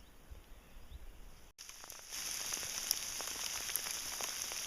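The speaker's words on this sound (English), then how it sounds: "It looks like hail, but it's really sleet, I think." Sleet falling outdoors beside a trenched hugelkultur garden bed, a steady fine hiss of icy pellets pattering on surfaces that swells louder after a brief dropout, with no voices.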